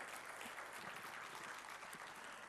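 Applause from a church congregation during a sermon: a continuous wash of many hands clapping, even and sustained throughout, captured at a low, distant-sounding level with no speech on top.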